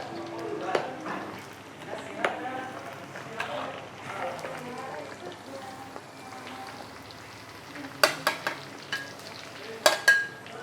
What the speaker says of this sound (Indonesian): udah kita goreng sampai mateng si ayamnya